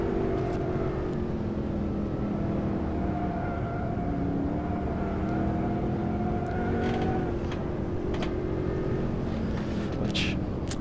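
A Corvette C6 GS and Z06 V8 in the rFactor 2 racing game, lapping Putnam Park. Engine notes rise and fall through gear changes over a continuous dense roar, with occasional sharp clicks and bursts.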